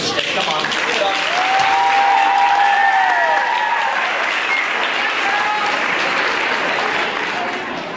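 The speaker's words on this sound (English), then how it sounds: "So please, round of applause." An audience at a kids show bursts into loud, sustained applause for a dance group, the clapping steady and full for the whole stretch while the crowd cheers and a voice is heard.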